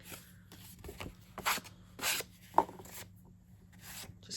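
Sandpaper rubs along the edges of a handmade card base in several short, quiet strokes with pauses between, dry and close-up.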